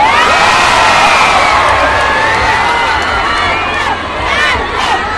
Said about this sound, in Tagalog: nung nakita ko ng ibang crowd na pati yung mga dalaga humihiyaw